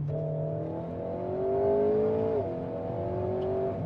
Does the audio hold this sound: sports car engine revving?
yes